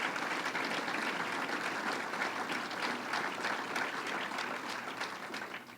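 An audience at an outdoor state fair announcement applauds Syracuse's Mayor Walsh, a broad, continuous wash of clapping held evenly throughout and fading slightly toward the end.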